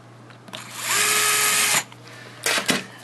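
A power drill drives screws into a Rowe hopper, giving one steady, close whir of about a second, then a couple of quick, short bursts.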